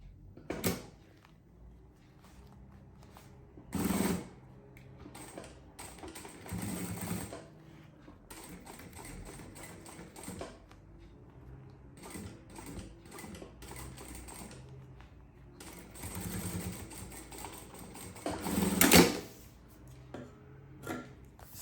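A sewing machine stitches bias binding onto the fabric lining of a box-shaped toiletry bag, heard as short, fairly quiet bursts of rapid clatter mixed with clicks and handling sounds.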